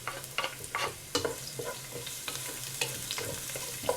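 Garlic and onion sauté with ginger in a hot pan for chicken tinola, giving a soft, steady sizzle. A spatula scrapes and stirs in quick, irregular strokes close by.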